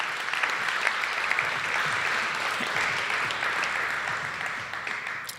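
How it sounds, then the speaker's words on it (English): Sustained audience applause for the presenters at a faculty research day event, a dense, steady wash of many hands clapping that holds for several seconds at full volume. "So can we just give all the presenters a round of applause again?"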